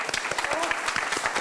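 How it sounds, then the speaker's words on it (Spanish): A studio audience claps for a singing contestant on a vocalist competition show, brisk rhythmic applause with a few distinct hand claps standing out, while a voice talks over it. "Un aplauso para él."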